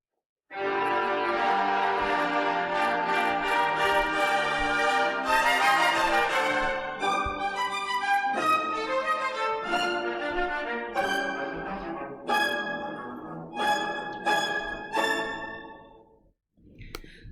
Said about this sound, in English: Together, the string section sounds like this.